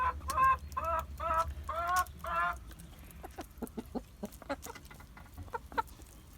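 Welsh Summer hens in a backyard coop give a run of four close, rhythmic clucks, then quieter scattered clucks and pecking sounds follow over a faint background hum.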